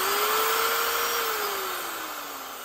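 A handheld drill spins a homemade wheel mounted on an arbor, giving a steady high whine whose pitch rises slightly and then slowly falls as the drill winds down.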